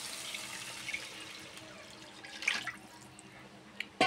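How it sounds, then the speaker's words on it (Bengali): Pre-heated water is poured into a pan of fried spice paste for dal kofta, a faint steady rushing splash with a brief louder gush and a few drips near the end. "এরপর এর মধ্যে আমরা দিয়ে দেব আগে থেকে গরম করে রাখা জল।"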